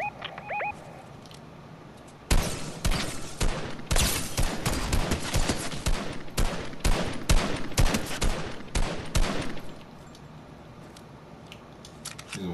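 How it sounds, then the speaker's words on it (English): Rapid blaster fire in a shooter video game, bursts of repeated shots crackling loud and close for about eight seconds, then easing off into quieter background game sound. "That's why I don't like these blasters"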